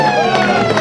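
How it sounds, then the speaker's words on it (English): A steady, loud end-of-game siren blares at an Eastern Football League match between Balwyn and Blackburn on Good Friday, holding one sustained tone over the crowd noise for the whole moment. "And there's the siren."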